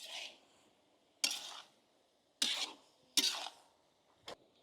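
A spoon scrapes and clacks against a pan while spices, cashew, sesame and melon seeds are stirred for a village-style Maharashtrian egg curry, giving four or five separate close, short scraping strokes with quiet pauses between them.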